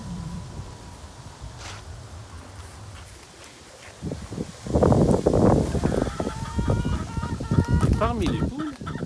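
Hens cluck in a large chicken coop full of birds. Scattered soft calls at first grow into a busy, loud chorus of overlapping clucks and squawks, with a honk-like cry near the end.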